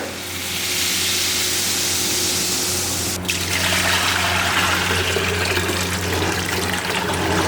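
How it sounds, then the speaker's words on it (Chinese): Water pours into a hot pot of pork ribs that have been stir-fried with cooking wine, a loud, steady rushing hiss that shifts in tone partway through and carries on without pause. "喷料酒，加水"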